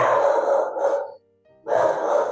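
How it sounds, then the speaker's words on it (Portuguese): A dog barks in two loud bursts separated by a brief quiet gap, close and clear, with no talking over it. "está tendo um latido aqui"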